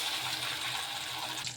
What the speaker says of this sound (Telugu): మిక్సీ జార్లోకి ఇలా నీళ్ళు కూడా వేసేసుకోవాలి కొంచెము